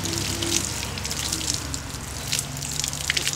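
Water splashes and gushes as it is poured over someone bathing outdoors in a village, uneven sloshing bursts with light drips, close and fairly loud, no talking.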